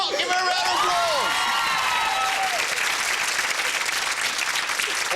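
Studio audience on a 1997 British game show breaking into loud, sustained applause with some cheering, a host's voice calling out over the start before the clapping carries on alone.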